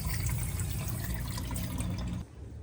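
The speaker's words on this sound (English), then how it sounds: "Found a leak underneath the sink, dripping from here." Water from a leaking sink in a 2020 Newmar Baystar RV, heard as a steady close trickle and patter of dripping that cuts off abruptly near the end.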